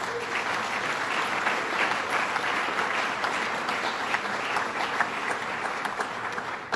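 A large audience at an awards event claps loudly and continuously, a dense sustained wave of applause with no talking over it.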